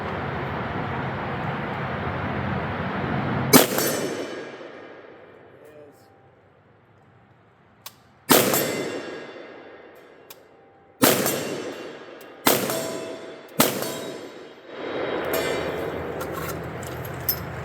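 Shots from a .450 Bushmaster rifle with heavy 345 and 408 grain bullets striking steel targets, five sharp, loud reports spaced several seconds apart, each with a fading echo tail, over outdoor background noise.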